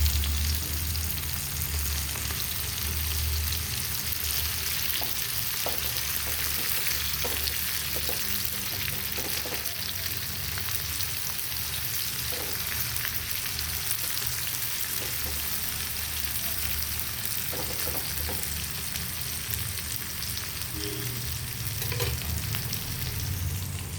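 Prawns fry in a pan with a loud, continuous close sizzle, punctuated by occasional soft taps and scrapes as the pieces are turned over, and no talking throughout.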